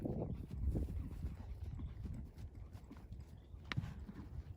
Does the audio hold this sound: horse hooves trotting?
yes